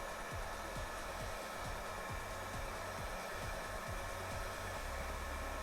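A heat gun warming helmet material gives off a steady blowing whoosh close by, with a repeated low clicking or scraping pattern underneath, and no voices.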